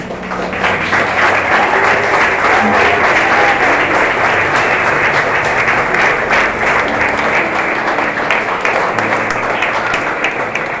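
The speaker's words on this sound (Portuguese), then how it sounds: "Pode aplaudir o Senhor porque Ele é digno" A church congregation at a Sunday worship service applauds in praise, a loud, sustained wash of many hands clapping that stays dense and even from start to finish.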